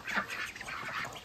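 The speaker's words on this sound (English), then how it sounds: "peep the baby ducks. Quack." Baby ducks quack and peep in a quick, busy chatter at moderate distance, the small calls overlapping continuously with no speech.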